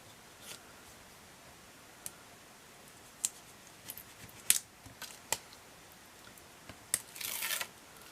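Scissors being cleaned give sparse, quiet metallic snips and clicks in an irregular pattern, with a brief scraping rasp near the end and nobody talking.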